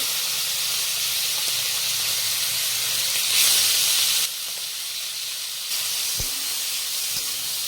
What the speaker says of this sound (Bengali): চিংড়ি মাছটা ভেজে দেবো